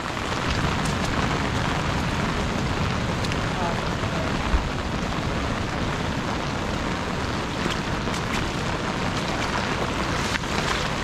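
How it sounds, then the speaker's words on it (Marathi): Heavy monsoon downpour on the seafront at Malvan in coastal Konkan, a dense continuous roar of rain and surf, loud and close with scattered sharper drops and no clear talk. "पाऊस तर एकदम धुवाधार पडतो आहे"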